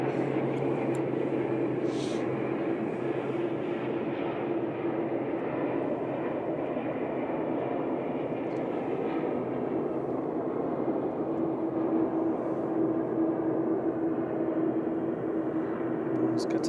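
A Qatar Airways airliner departing Manchester Airport, heard as a steady, broad engine roar that holds evenly at a distance for the whole stretch.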